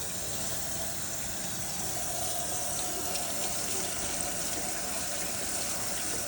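Steady running water from a tap pours over a removable part of a Narwal Flow robot vacuum as it is rinsed in a sink, a constant broadband gush without pause.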